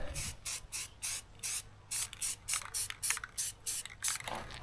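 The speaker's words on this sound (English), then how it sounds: "So I'm going to put some paint on now." Aerosol paint sprayed in short repeated bursts onto a replacement steel bracket for a Nissan Frontier frame before welding; about a dozen hissing pulses with brief gaps, close and fairly quiet, no voices.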